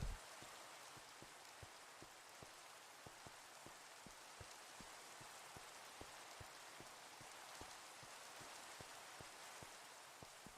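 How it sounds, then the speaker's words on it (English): Rain from the video game Minecraft falls as a steady patter of many small drops hitting a surface, even and continuous at a low level. "Sends Minecraft rain"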